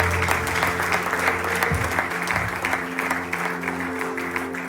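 A church congregation breaks into sustained applause as an offering of praise, a thick, loud crowd of clapping hands over a low organ-like hum that carries on for several seconds.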